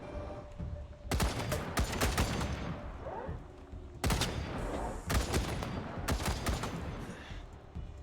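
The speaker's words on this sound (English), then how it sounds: "Luckily that turret shot only at my turrets" Turret gunfire in the Wasteland 3 video game: repeated loud bursts of rapid shots in three clusters, with short gaps and a lingering rumble between them.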